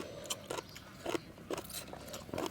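Crisp, crunchy bites into a pounded Thai salad with fresh shrimp, a series of about six close, sharp crunching bursts with short pauses between them and no talking.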